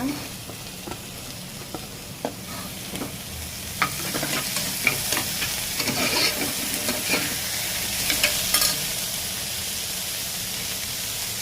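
Onion, tomato and dal sautéing together in a pan for sambar, a steady broadband sizzle with repeated scraping stir strokes throughout, close and fairly loud, no voices.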